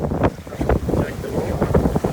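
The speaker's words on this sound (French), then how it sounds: "Le vent a tendance à les pousser du mauvais côté." Wind buffets the microphone on open water during a sailing race course, a steady roaring rush with gusty swells and some splashing, loud and close throughout.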